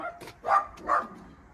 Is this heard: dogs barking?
yes